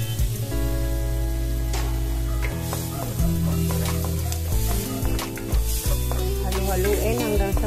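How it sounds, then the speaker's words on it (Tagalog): Onions fry in a pan for creamy sipo eggs, sizzling steadily up close while a utensil stirs them with repeated scraping strokes, and a background music tone runs underneath. "haluin hanggang sa mag-translucent yung ating sibuyas"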